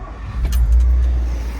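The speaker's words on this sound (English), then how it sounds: "and then turn the car on" A car engine cranks and fires up after being switched off, a short loud low rumble catching and settling into idle, with a brief rattle at the start.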